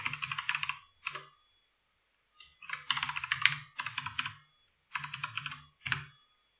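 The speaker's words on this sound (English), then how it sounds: "now we have to type it again." Bursts of typing on a computer keyboard, with rapid clustered key clicks separated by short pauses, fairly close and clear with no talk over it.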